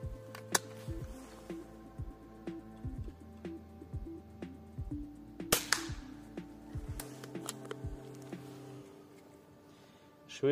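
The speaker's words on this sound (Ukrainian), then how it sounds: "ну давайте тепер раді цікавості по іншій мішені постріляємо півграмовками" A broken BLOW H-01 airsoft pistol fires heavy 0.5 g BBs at a paper target indoors, about a dozen sharp, faint snapping shots spaced irregularly over a low steady hum.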